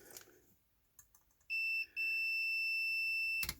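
A multimeter continuity tester beeps with a steady high-pitched tone while probing an Amiga A1200 computer. The tone sounds briefly, cuts out for a moment, then holds for about 1.5 seconds amid faint handling clicks.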